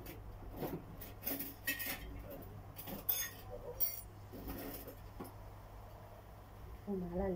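A large spoon clinks against a cooking pot while scooping ghee, producing several bright metallic taps and scrapes at irregular intervals, with someone talking in the background.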